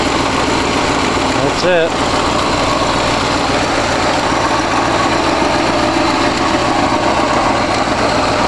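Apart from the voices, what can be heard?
V8 car engine running after start-up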